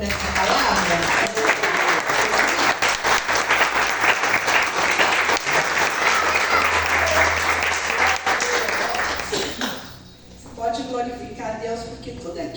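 A church congregation applauds at a worship service, dense sustained clapping filling the room for about ten seconds before fading, then a lone voice speaking with some residual claps.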